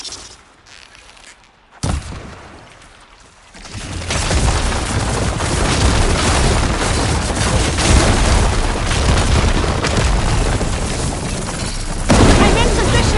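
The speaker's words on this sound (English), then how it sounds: "Another few shots from that ballista." Sustained barrage of loud booming blasts and explosions from ballista shots in the video game Horizon Forbidden West, a sharp burst near the start swelling into a dense, continuous roar that stays loud to the end.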